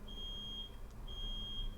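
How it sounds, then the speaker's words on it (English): An electronic alarm gives a thin, high, steady beep in two long pulses separated by a short gap, faint and heard alone against a low background hum. "there's an alarm going off apparently"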